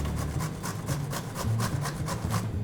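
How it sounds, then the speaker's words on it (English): A cauliflower stalk and its trimmings are grated in quick, rhythmic rasping strokes, roughly ten close scrapes in a steady back-and-forth rhythm. "So we grate it, and any trimmings you get from the cauliflower, we grate that also"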